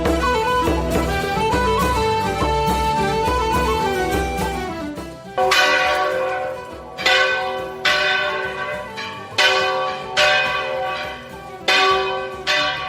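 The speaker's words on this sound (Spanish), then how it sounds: "el sonido que estamos escuchando, el de las campanas" Church bells in the Alhama-Linares area of La Rioja Baja ringing loudly and close, a dense peal that gives way to separate, evenly spaced resonant strokes with long ringing decays.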